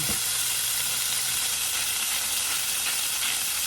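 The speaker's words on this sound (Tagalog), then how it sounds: "So, mag-saute tayo ng kanyang fajitas beef." Fajita beef sautéing in a hot pan gives a steady, loud sizzle with hissing steam, continuous from start to finish and close up, with a brief low hum fading out early on.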